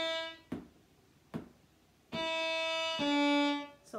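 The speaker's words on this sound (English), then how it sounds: "So the first set of slurred notes are in a down bow." Viola playing slurred notes, a set in a down bow and then a set in an up bow, with sustained bowed tones after a couple of soft thumps, heard alone and fairly quiet.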